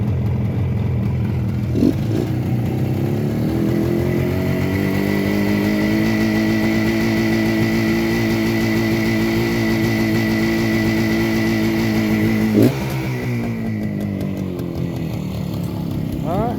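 A 1972 Suzuki T500 Titan two-stroke street bike runs steadily close by, its engine note rising and falling with throttle changes, with a brief blip near the start and a sharp rev near the end.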